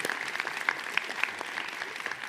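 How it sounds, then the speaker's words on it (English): A small seminar audience claps for a student board member, a soft, moderately distant patter of individual hand claps that continues evenly for a couple of seconds. "So we should give her a round of applause for that to begin with."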